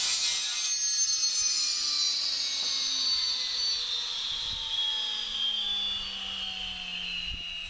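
A Milwaukee multi-blade oscillating tool cuts during repair work on a crumbling lintel, giving a steady, loud, high-pitched buzzing whine that holds throughout with a slight downward drift in pitch.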